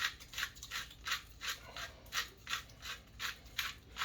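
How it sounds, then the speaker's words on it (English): A hand pepper grinder cranks steadily through peppercorns in a dozen or so regular gritty bursts, close and fairly quiet, with no voices. "we're gonna grind some pepper"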